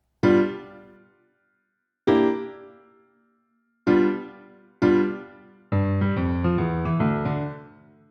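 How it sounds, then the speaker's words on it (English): Rock and roll style walk down from G in octaves on piano, the boogie woogie left hand opening bars: four separate struck chords that ring and fade, then a faster sustained run of notes, solo and close. "So the opening 4 bars of the left hand"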